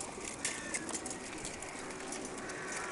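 Pigeons cooing softly amid a rustling, breezy outdoor background, with soft repeated coos and a few flutters spread across the moment, no voices present.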